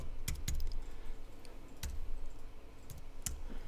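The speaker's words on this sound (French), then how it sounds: "si je clique dans la cellule suivante et que je tape un chiffre" Several sharp key taps on a computer keyboard as a digit is entered into a table cell, spaced irregularly with brief pauses, close and fairly clear over a low steady room hum.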